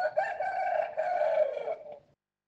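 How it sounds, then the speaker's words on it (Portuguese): A rooster crows once, a single loud, close, drawn-out call lasting about two seconds before silence. "Então o galo cantou."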